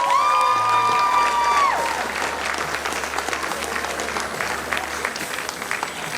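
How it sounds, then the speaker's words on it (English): An audience at a property awards ceremony breaks into loud, sustained applause from many hands, filling the room evenly from start to finish, with a brief electronic tone at the beginning. "Let's give them a huge round of applause"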